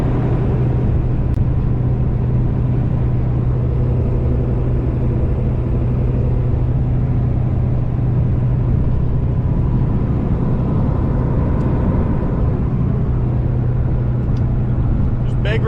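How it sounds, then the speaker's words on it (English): A big rig truck rolls along the road with a constant, loud low engine drone and cab rumble that stays steady throughout, heard from inside the cab. "Just big rigging along in Dad's truck."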